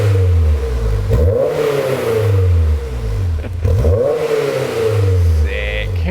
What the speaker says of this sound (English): So next up is we're going to rev the car